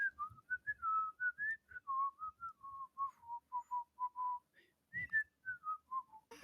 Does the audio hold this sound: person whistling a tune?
yes